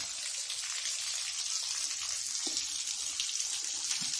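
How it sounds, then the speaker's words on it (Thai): Small 12V 35W brushless DC submersible water pump running out of the water, a hose leading into a jar, giving a steady rushing splash of flowing water with faint drips, close and continuous with no talking. "มอเตอร์เล็กๆ ดูดน้ำ"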